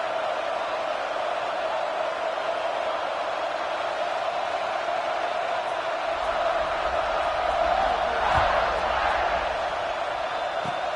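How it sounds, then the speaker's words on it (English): A football stadium crowd at a Clemson game buzzes as a steady, distant wash of massed voices, rising slightly toward the end with a faint thump, alone with no clear speech on top. "this crowd is buzzing after that last score"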